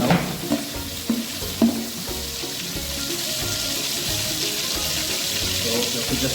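Green chilies and fennel seeds frying in a pan of oil for South Indian coconut rice, a steady close sizzle with a few sharp crackles and stirring clatter early on, no talking.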